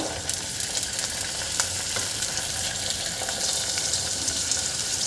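Potatoes and peas hiss and crackle steadily in a hot pan with onion, green chili and ginger-garlic paste, a close, continuous sizzle with faint scraping, no talk.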